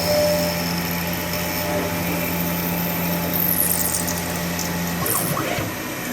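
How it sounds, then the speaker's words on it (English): A CNC machine drilling a part with coolant hums steadily with a whirring mechanical drone that cuts off near the end, followed by faint clattering and a brief swish. "I like to keep a little bit of coolant on this drill."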